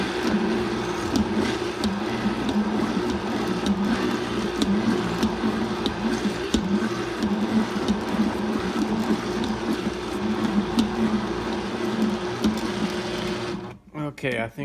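Steady motor whir of a Vitamix blender at speed 2 grinding chicken patty ingredients, continuous and loud at close range before cutting off near the end.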